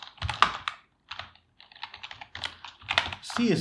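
Quick clattering keystrokes on a computer keyboard while CSS code is typed, in short bursts with brief pauses, close and fairly loud.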